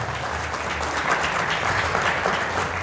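Church congregation clapping in a dense, steady wash of applause that holds at even strength from start to finish, with no talking over it.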